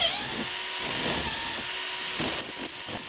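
A power drill bores holes through a multi-angle drill guide into a door edge for a lock slot, a continuous high whine held steady for a few seconds with slight changes in load.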